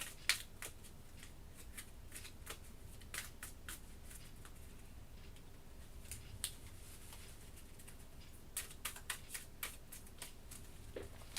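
A deck of game cards for the Kingdom Death: Monster board game being shuffled, a run of crisp riffling clicks and snaps in short bursts, fairly quiet and close, with no talking.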